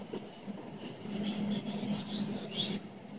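A knife being sharpened, shedding metal filings, gives a steady run of dry rasping strokes, close and fairly quiet, with no talking.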